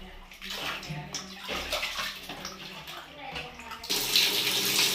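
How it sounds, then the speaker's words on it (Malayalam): A corroded motherboard being rinsed after brushing, with water splashing and running steadily close by, growing to a louder, harder gush near the end; no talk. "ഇനി വെള്ളത്തിൽ മുക്കി നന്നായിട്ട് കഴുകണം."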